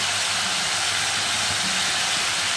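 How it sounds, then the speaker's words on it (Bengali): Spice paste frying for a Bengali egg curry, a steady close hiss and sizzle of masala in hot oil that continues evenly throughout with no talking. "আমি মশলাটাকে কষে নাড়াচাড়া করে ভেজে নেব সুন্দরভাবে"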